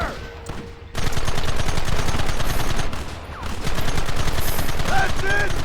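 Rapid bursts of gunfire in Red Dead Redemption, loud and dense with repeated shots rattling almost continuously, briefly easing midway before resuming, with a voice calling out over the shooting.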